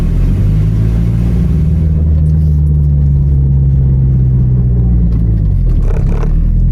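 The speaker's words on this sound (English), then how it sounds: "This car sounds so good." A car engine rumbles loudly and steadily close by, with a deep droning tone that swells slightly before easing off near the end.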